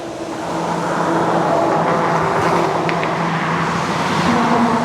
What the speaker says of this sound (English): I can really feel the bridge shaking when this traffic goes by